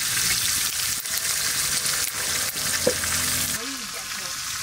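Dried chili, bay leaf and cumin sizzling in hot oil in a wok, a loud, steady frying hiss with a brief stir-like clatter partway through; a faint voice is briefly heard underneath.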